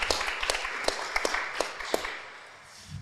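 Audience applause at a conference session: scattered, uneven claps from a small room, several sharp hand claps rather than a full roar, dying away after about two seconds.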